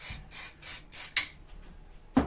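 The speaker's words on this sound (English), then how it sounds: "A little bit of our wonderful layering spray." Layering spray hissing onto a model forest floor in a series of about four short, even bursts, followed by a couple of sharp taps and clicks.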